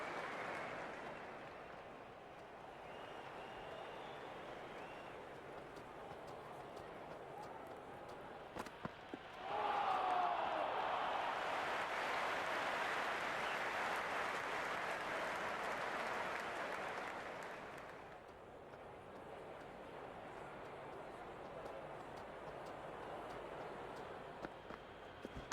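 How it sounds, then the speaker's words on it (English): Crowd at a cricket match in the Cricket 26 video game swells into loud, sustained cheering for several seconds mid-clip, then settles back to a steady background murmur. "It's almost palpable, the excitement emanating from this crowd at the moment."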